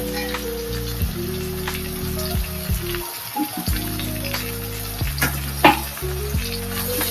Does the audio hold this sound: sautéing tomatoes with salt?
yes